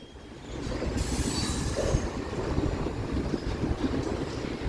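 A BNSF mixed freight train rolls past at Central Avenue, a loud, steady rumble of wagons with rattling wheels and faint squeal, close by and continuous throughout, no voices.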